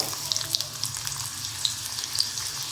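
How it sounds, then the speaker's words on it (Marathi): Chopped onion sautés in oil in a kadai, a soft, sparse sizzle with small crackles and pops scattered across it, close and fairly quiet, with no talking. "सुकं खोबरं, खसखस आणि कांदा तेलावर परतून घ्यायचं आहे"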